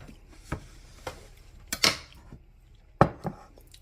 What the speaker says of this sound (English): Chop the olives and the pickled onions.